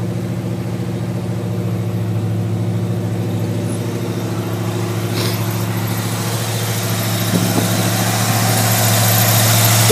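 A crate engine in a 1950 Chevrolet 3100 truck idles steadily and close, a smooth low rumble with a constant hum that grows slightly louder toward the end, with no talk over it.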